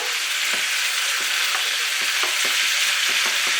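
A chicken and mango habanero sausage stir-fry with red pepper sizzles loudly and steadily in the pan while a utensil stirs through it, scraping in repeated quick strokes.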